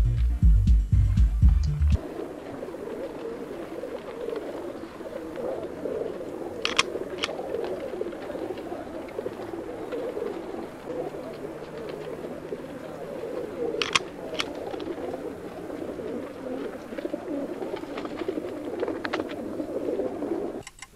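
Pigeons coo softly and continuously inside a loft, a low rolling murmur with a few brief flutters and clicks scattered through it. No one speaks.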